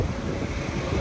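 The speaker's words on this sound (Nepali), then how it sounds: "हावा चलिरहेको छ" Wind gusting across the microphone on a London street, a steady low roar and buffeting that fills the whole second with no voices.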